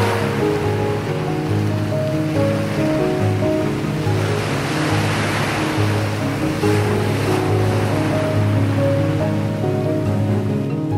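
Lively surf breaks on Inakahama beach on Yakushima, a wide, clean shore, making a loud, continuous roar of rushing water that swells and settles, with a faint tonal hum running underneath.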